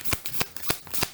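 Tarot cards are shuffled briefly in a quick run of crisp riffling flicks, close and fairly soft, with no talk.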